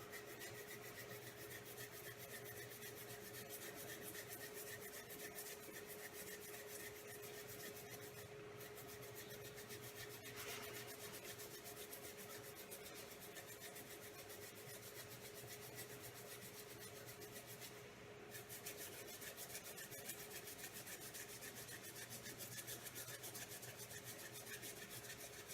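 Surgical hand scrub working over the thumb and fingers, heard as a steady soft rubbing and rasping with running water beneath, continuous and close.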